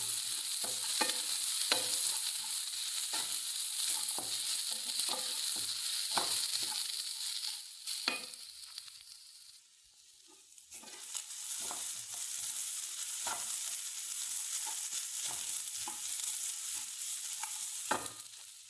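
Grated coconut roasting with a pinch of salt in a pan for fish curry, a steady dry sizzle broken by regular scraping stirs of a spoon, close and alone with no talk.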